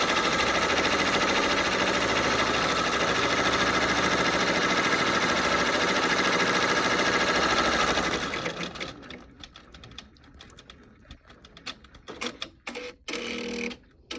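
An embroidery machine stitches an applique patch in a fast, steady mechanical whir that runs loud for about eight seconds, then stops and leaves scattered clicks and handling noises.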